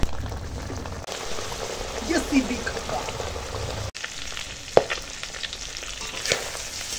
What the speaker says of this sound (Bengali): এখন তেল পটকা ভেজে দিচ্ছি। কি দমাস দমাস করছে